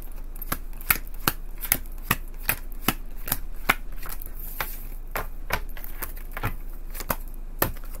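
Tarot cards shuffled by hand in quick repeated riffles and taps, a crisp, close series of about twenty sharp clicks with no talking.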